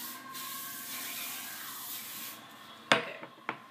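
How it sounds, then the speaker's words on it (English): A steady hairspray aerosol hiss sprays for a couple of seconds, followed by a few faint clicks and taps nearby. "it kind of works as like a moderate hairspray if you're just looking to spray down some"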